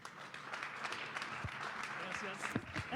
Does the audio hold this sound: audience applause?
yes